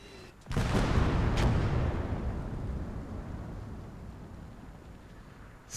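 103 mm artillery fires in the Gates of Hell video game: a sudden heavy boom, then a second sharp crack close behind, with a long low rumble that slowly fades away, loud and without talk.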